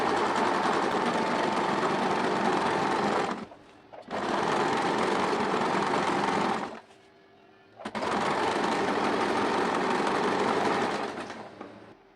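A sewing machine runs in three long bursts of steady stitching along a churidar slit, stopping briefly between runs, loud and close with no voices.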